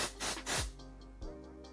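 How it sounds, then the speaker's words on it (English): Spray bottle misting a generous amount onto the inside of a wig cap during a wig install, two close hissing bursts, then a couple of faint handling rubs. "And now I'm going to take my spray and actually spray the inside of it."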